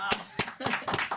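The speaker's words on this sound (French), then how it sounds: "Ah, on peut l'applaudir." Audience clapping in a studio as a guest walks in, a few loud, scattered claps in an uneven rhythm over voices.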